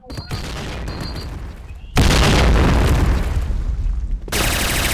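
Grenades blow up in a shooter video game, a run of loud booming blasts with the biggest bursts landing about two seconds apart, each followed by roaring debris noise.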